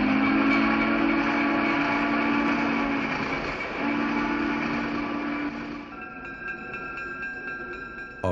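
A Burlington steam locomotive hauls its train past near Aurora, Illinois, with a loud continuous rumble and a sustained tonal whistle-like drone. The sound thins to a quieter rattle of rolling cars toward the end.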